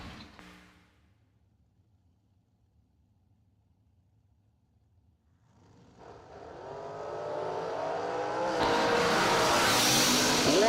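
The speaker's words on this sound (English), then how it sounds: "The supercharged dragster going to be down" A supercharged dragster at a drag strip grows from near silence into a loud, rising engine roar over the last few seconds, a broadband blast building steadily toward the end.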